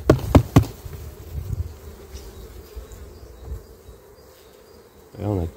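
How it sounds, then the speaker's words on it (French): Honeybees buzzing at an opened beehive fitted with new frames, a soft close droning with a few louder passes near the start and a brief buzz flaring at the end. "Il y a plein d'abeilles, tout ça."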